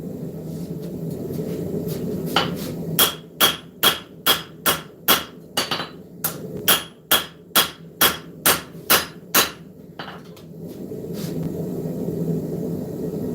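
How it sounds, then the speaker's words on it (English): A forging hammer with a cross peen strikes hot steel to draw it out, about sixteen sharp, ringing blows in a steady rhythm over a low background rumble, loud and close. "I switched to the straight or the cross peen, and I drew out some height going from side to side here, or from bottom to top"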